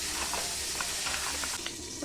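Cauliflower frying in a pan, a close, continuous sizzle with small crackles and stirring scrapes throughout.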